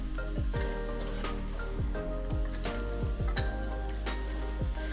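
Garlic, four or five cloves, sizzling steadily in a frying pan while shrimp and grits are prepared, with repeated utensil clinks and stirring scrapes ringing over the continuous hiss.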